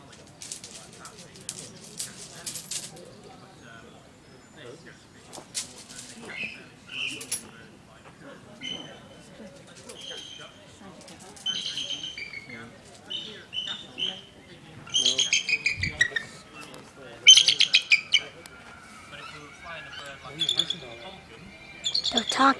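Birds call and chirp in bursts of short high tweets and squawks scattered across an outdoor scene in England, moderately near, mixed with people talking intermittently throughout.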